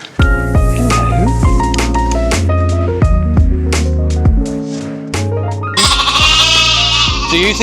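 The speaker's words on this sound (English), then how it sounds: "Now I have heard some little sheep noises coming from in here." Sheep bleat repeatedly over a steady musical backing, several short calls spaced through the clip, fairly loud and close.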